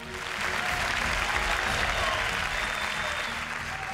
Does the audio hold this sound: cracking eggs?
no